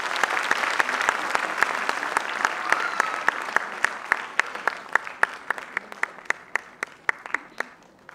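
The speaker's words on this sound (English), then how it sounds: "Let us give a huge round of applause." An audience at a school event at Auxilium Convent, Pali Hill, Bandra claps steadily for about eight seconds as a round of applause for the chief guest, with sharper individual claps standing out over the crowd.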